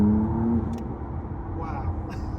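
McLaren Artura engine at full throttle in track mode, a low steady rumble that holds loud, then eases slightly while accelerating.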